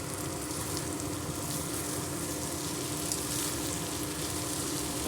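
Okra (bendakaya) frying in oil in a pan, giving a steady, dense sizzle that holds even and unbroken throughout, with no voices.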